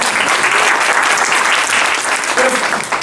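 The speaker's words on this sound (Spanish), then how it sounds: "Un aplauso por las mujeres." A church congregation applauds for the women, dense and continuous clapping from a full room, loud and even with a faint voice briefly surfacing near the end.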